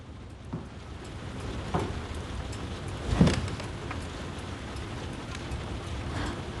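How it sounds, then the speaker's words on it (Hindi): Steady rain hisses across the whole stretch, a dense wash of drops with a few brief louder knocks near the middle. "कितनी तेज बारिश हो रही है।"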